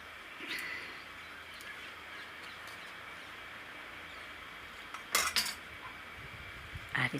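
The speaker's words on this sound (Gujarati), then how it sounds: "આ કાપ્યા એ રીતે આને આપણે કાપી લેવું ચાકુ લઈને." A kitchen knife cuts through fried veggie burger patties on a plate, giving a few light, sharp clinks of metal on crockery, mostly near the end, over a steady low background hiss.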